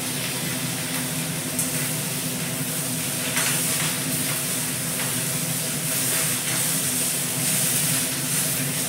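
Chopped devdangar vegetable hits hot oil in a home kitchen pan and sizzles loudly and steadily, a dense continuous frying hiss with faint stirring scrapes underneath and no talk.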